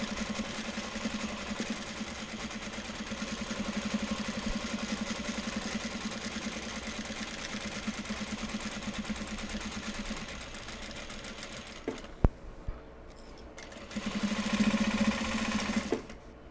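A domestic sewing machine stitching a small Japanese-fabric bag, an eyeglasses case, runs in a steady continuous whir, pauses briefly near the end, then resumes running alone.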